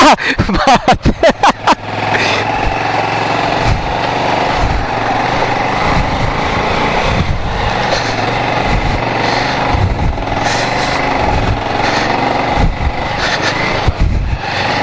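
A motorbike engine straining with a slipping clutch on a mountain road around Zuluk in East Sikkim: rough pulsing revs at first, then a loud, sustained high-pitched drone close by.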